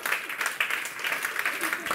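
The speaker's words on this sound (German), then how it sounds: "Und die Männer klatschen." Men in an audience at a talk clap together, a dense patter of applause at moderate distance, steady for a couple of seconds with murmuring voices beneath.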